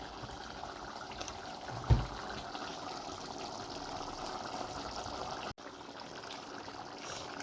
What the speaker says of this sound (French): Je mets du lait de coco.